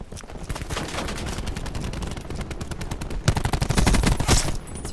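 Rapid automatic gunfire in a Call of Duty: Black Ops 4 team deathmatch, with loud, dense bursts that run almost continuously and grow heavier toward the end.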